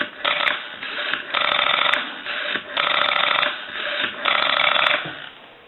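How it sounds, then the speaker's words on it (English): A steady electronic dial tone on a Western Electric 202 rotary desk telephone sounds in several long bursts separated by brief dips, with faint crackle throughout and no voices. "Give you some dial tone."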